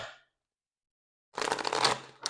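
A short burst of tarot cards being shuffled, a quick papery riffle after a moment of silence, close and fairly loud.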